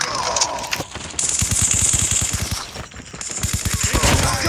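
Rapid suppressed gunfire from a silenced weapon in Call of Duty multiplayer, several quick bursts of dull popping shots in fast rhythm, fairly loud and near, with game effects around them.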